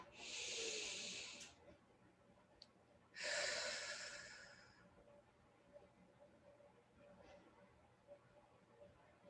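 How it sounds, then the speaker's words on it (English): Two deep breaths drawn in slowly during a guided meditation in a Kabbalat Shabbat service, each a soft airy hiss of a few seconds, close and quiet, followed by low room hush. "Another deep breath in."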